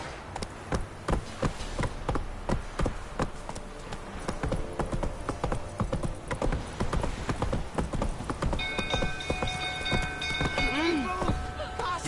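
Roach, the horse in The Witcher 3, gallops with steady, rapid hoofbeats that stay close and loud throughout, over faint rain-like patter and ambient game music tones near the end.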